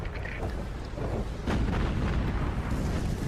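Ship cannons firing in the naval video game Battlestations Pacific, with a deep boom at the start and a louder blast midway, rumbling on under steady game noise.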